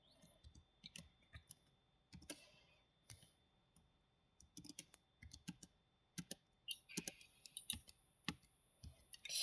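Typing on a computer keyboard, close and quiet, with irregular bursts of key clicks that quicken toward the end, with no talking.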